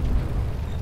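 A high-explosive shell hit in World of Tanks lands as a low, rumbling blast that rolls on for under a second, heavy in the bass with no voices over it.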